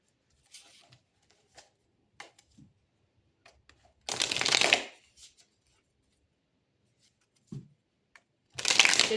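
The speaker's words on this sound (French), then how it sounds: "on va aller chercher d'autres cartes là" Tarot cards are shuffled by hand in quiet, scattered taps and flicks, with two short, fuller riffling bursts. There is no talk.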